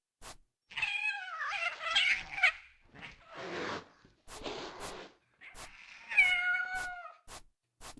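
Demon cat in the video game The Hanged Man, drawn-out warbling meows and yowls in several bursts separated by sharp clicks and breathy snorts, fairly quiet.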